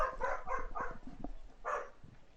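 A dog barks in a quick run of four or five yips, pauses, then gives one more bark, fairly faint and close with no talk over it.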